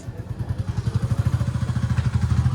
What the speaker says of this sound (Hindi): तो अभी मैं और नवी जा रहे हैं, इसने रेडी कर ली है बाइक